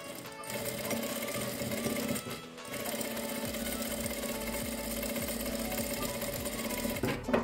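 A sewing machine running steadily as it stitches a seam in fabric for a table runner, with a continuous close mechanical whir and a brief pause partway through.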